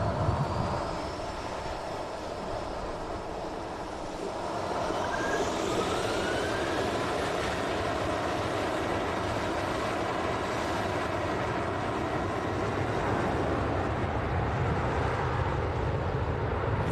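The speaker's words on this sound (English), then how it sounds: "Pegasus on the taxi out as well. A321neo." A Pegasus Airbus A321neo taxiing out at Manchester Airport, a steady broad jet-engine roar with a faint rising whine, heard from a distance and holding constant for the whole stretch with no voices.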